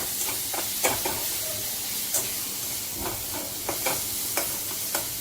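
A spatula stirs turmeric and salt into a frying mixture in a pan, with repeated scraping strokes in an uneven rhythm over a constant close sizzle and hiss.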